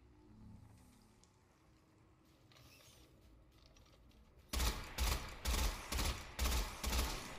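Pulse rifle firing in the video game Destiny 2: after a quiet, rumbling stretch, a loud rhythmic string of about six evenly spaced bursts starts up close and repeats to the end.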